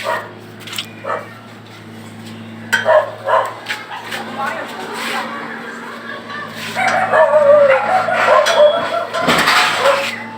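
Several dogs bark and yip in bursts at a moderate distance, with people talking and other background activity throughout, near a road under construction.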